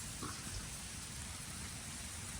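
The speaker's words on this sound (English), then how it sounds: "it's raining out here pretty good" Steady rain falls outdoors onto a campfire oven, a dense even hiss of drops hitting surfaces, with a low rumble beneath, quiet and continuous.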